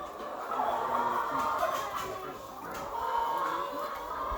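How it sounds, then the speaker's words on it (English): Chickens on a livestock farm, a dense chorus of clucking and squawking birds, fairly close and continuous, rising and falling in waves with no talking. "They sound as if the chickens are crying."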